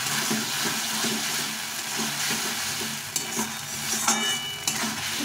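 Fried potatoes stirred and sautéed in a spice paste for a snakehead fish curry, giving a steady close sizzle with frequent scraping stirs and light clinks throughout, no voices.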